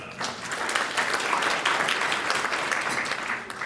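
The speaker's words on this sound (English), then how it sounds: "give her a round of applause" Audience applause at a luncheon event fills the room as steady, dense clapping from many hands, sustained at an even level throughout.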